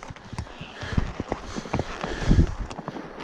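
Pack horses walking on a backcountry trail, their hooves clip-clopping in an irregular close rhythm alongside rustling tack and some movement noise.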